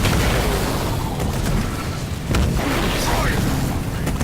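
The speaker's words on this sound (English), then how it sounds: "We're under fire from enemy artillery" Enemy artillery fire in Halo Wars 2, heavy booming impacts and rumbling blasts that fill the whole clip loudly, with a sharper hit midway through.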